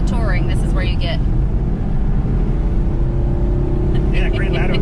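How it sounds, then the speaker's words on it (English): A car's open sport/track-mode exhaust drones loudly and continuously from inside the cabin, with people talking over it at the start and end. "it's the more open exhaust for sport and track"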